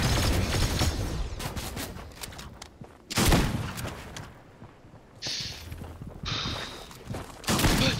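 Video game gunfire in a Fortnite squads match: bursts of rapid shots and heavy blasts, loud and close, with short gaps between volleys and no talk over it.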